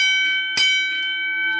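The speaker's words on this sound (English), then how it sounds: "That's how loud the bell will be." A single railroad crossing bell from a model crossing kit with 10-inch bells strikes once, sharp and loud, then rings on with a long sustained metallic tone.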